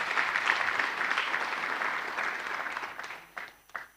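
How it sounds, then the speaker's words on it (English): Applause from guests at a radio station's anniversary gala dinner, a moderate, fairly distant wash of clapping that thins out and breaks into a few separate claps at the end. "I think we must give them a round of applause,"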